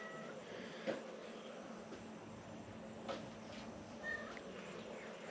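A few faint, short cat meows at scattered moments over a steady background hiss, the animal sounding some distance away.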